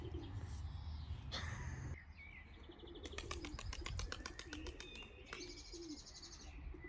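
Pigeons coo softly nearby while a sharp rapid chirping and brief wing flaps break in over a low background hum, as a racing pigeon returns.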